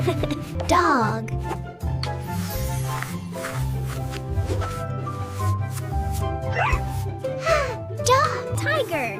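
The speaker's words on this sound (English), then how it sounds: "Dog." Cartoonish dog barks and yips over a bouncy musical backing, with a voice speaking at times.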